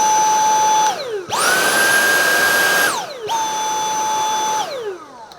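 A Dyson V8 Advanced cordless vacuum cleaner whines steadily at low suction, ramps up to a louder, higher-pitched high-suction roar, then drops back to low before spinning down, close and loud.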